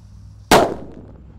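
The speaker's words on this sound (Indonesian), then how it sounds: "Spesial ngabuburit Ramadan hari ke-20 kita nyalakan mercon petir" A single sharp bang from a mercon petir firecracker goes off against a quiet background, loud and close, with a brief crackling tail as it fades.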